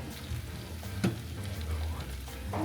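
Rice goes into a pan of hot oil and gives a steady, moderate sizzle, with faint stirring and a brief clink, and no talking.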